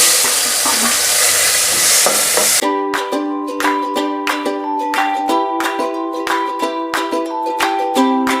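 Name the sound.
chopped green tomatoes frying with mustard seeds, cumin, asafoetida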